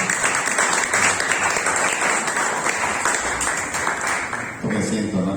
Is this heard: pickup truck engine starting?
no